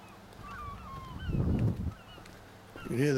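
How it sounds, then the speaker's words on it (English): Geese honk loudly outdoors near a Carnaby Ashdale 2020 static caravan in Betws-y-Coed, North Wales, a burst of harsh calls in the middle and another at the end, over a steady quieter background. "You can hear the birdies streaking away there in the background."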